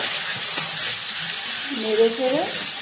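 Pumpkin with turmeric and salt stirred and frying in a pan, a close, steady hiss and sizzle with faint scraping, and a brief voice-like tone near the end.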